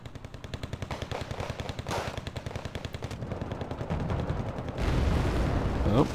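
Rapid bursts of 7.62 mm MG3 machine-gun fire from a vehicle in a military video game battle, a steady stuttering rattle lasting several seconds, with louder blasts and heavier rumble building toward the end.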